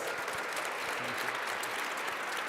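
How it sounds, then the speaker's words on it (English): Seated attendees at an IMF seminar give the panelists a round of applause, a fairly faint but steady wash of clapping from a distant crowd throughout. "I want to show your appreciation for our panelists with a big round of applause"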